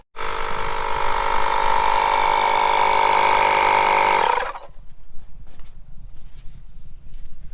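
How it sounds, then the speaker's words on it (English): A small air compressor hums loudly and steadily with a strong tonal whine for about four seconds, then shuts off and leaves quiet background rustling. "that's just a little small air compressor"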